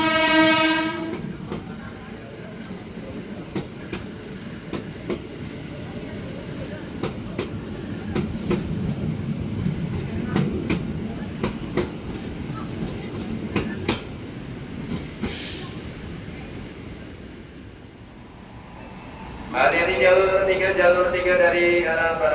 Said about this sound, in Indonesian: Kereta api Bima, Jakarta Surabaya, lokomotifnya 206-1323.